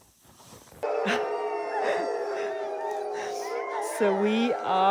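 Sled dogs in the Arctic howling and barking together in a loud, sustained chorus with overlapping wavering howls, starting abruptly after a brief quiet moment.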